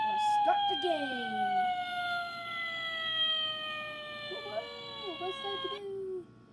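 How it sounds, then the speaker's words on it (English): A toy fire engine siren wails with a falling electronic tone beside a Hot Wheels ramp set up in a basement, continuous and fairly close, with a short warbling burst near the end before it cuts off. "There's a fire engine."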